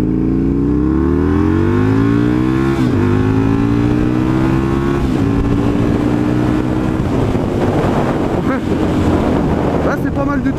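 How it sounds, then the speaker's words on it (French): Husqvarna 900 Nuda motorcycle accelerating hard on a dry road, its loud engine climbing steadily through the gears with brief dips at each shift, heavy wind rush over the microphone throughout. "on va voir un peu ce que ça donne sur l'accélération."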